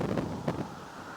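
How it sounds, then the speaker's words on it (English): Strong gale wind at Bugle Bay on a dull, misty, cold day, a rough buffeting roar of gusts against the microphone with two brief swells. "blowing a gale."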